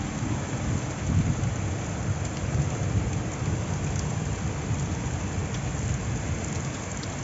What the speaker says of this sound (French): Au début c'était un gros vent fort, après c'était la pluie, là c'est les grêlons.